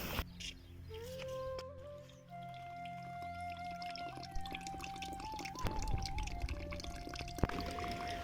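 Water gushes and trickles steadily through a leaking valve whose rubber seal is worn out so it will not shut off, a continuous flowing wash with occasional drips, close by, with faint tonal hums in the background.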